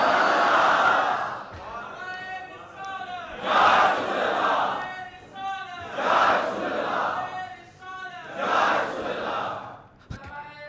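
A large religious gathering chanting the Nara-e-Risalat slogan, several loud massed call-and-response shouts in a rising and falling rhythm, each swell of voices answering the last.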